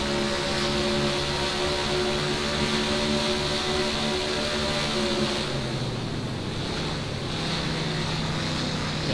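A damaged NASCAR Craftsman Truck engine in the NR2003 racing game drones at steady pitch and then drops lower, a continuous rough engine tone over a faint broadband hiss.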